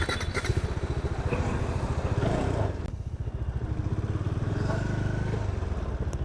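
A Bajaj Dominar 400 fitted with an Autologue Xplorer kit rides along, its engine thumping in a close, steady pulse with a brief dip in throttle midway and some rattle from the bike, no voices.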